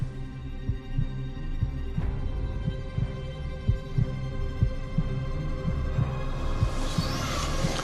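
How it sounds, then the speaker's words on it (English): A slow, regular heartbeat thuds steadily at a moderate level behind a low hum, continuing throughout without voices. "There's like a heartbeat on the opposite side of this wall"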